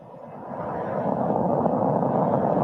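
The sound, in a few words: SpaceX rocket launch liftoff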